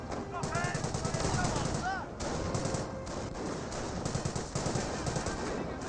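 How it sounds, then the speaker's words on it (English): Rapid machine gun bursts rattle in a Company of Heroes 1 battle, with continuous fire and a few louder shots over the game's ambience while a commentator talks over it. "We also got this Kenigrad here getting gunned down."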